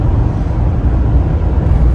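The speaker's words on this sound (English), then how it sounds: "it covers all of the massive amount of wind noise that this brick creates at highway speeds" Steady broadband roar of wind noise inside a Jeep Wrangler 392 at highway speed, a loud continuous rush with a heavy low-end rumble and no pauses.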